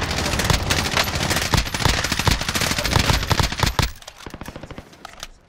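Machine gun fire in the Warzone battle royale game: dense, loud rapid bursts for about four seconds, then sparser single cracks and thumps as the shooting tapers off.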